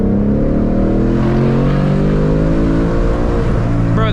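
A 2021 Ford Mustang Mach 1 engine revs loud and close during a drift drive on grippy tires, a sustained high roar with rising and falling harmonics and no talking.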